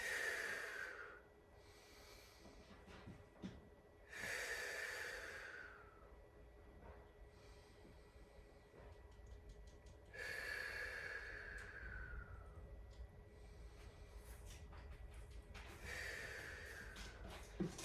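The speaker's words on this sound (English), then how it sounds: "Let's take nice deep breaths, breathing all the way up to your chest here" Deep breathing during a restorative yoga session: four slow, audible inhale-and-exhale cycles spaced several seconds apart, close and soft, with quiet pauses between breaths and no speech.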